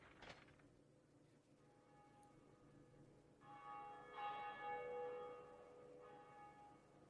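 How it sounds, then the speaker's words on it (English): Bell ringing in the video game Dark Souls: a clanging strike at the start, then sustained metallic tones with a second, louder peal swelling midway, ringing on steadily to the end with no voices. "we're going to run over and ring this bell and get a cool cinematic"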